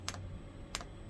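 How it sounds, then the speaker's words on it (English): A diesel heater's fuel pump, part of a 5 kW diesel heater setup, gives two sharp, faint clicks about two-thirds of a second apart over a low steady hum. "that's what's making the clicking noise, which is the pump"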